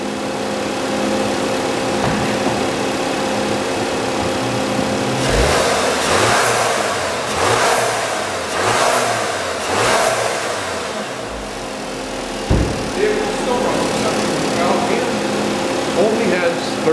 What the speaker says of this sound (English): I'm just going to rev the vehicle a little bit just so you can hear exactly how it sounds.